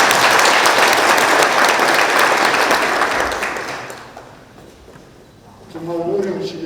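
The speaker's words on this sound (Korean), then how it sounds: "경북과 우리 구미를 위해 힘써 계신 지사님께 큰 박수 한번 부탁드리겠습니다" Loud audience applause for the provincial governor at a Gyeongbuk town-hall meeting in Gumi, sustained clapping that fades out midway, followed by a voice speaking.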